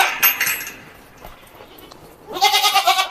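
Goats and a kid bleat on a farm as they are led out, with a loud bleat at the start and a rapid run of close, wavering bleats near the end, separated by quieter farmyard sounds.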